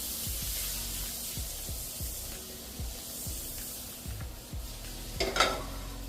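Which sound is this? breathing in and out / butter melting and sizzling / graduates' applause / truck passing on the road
butter melting and sizzling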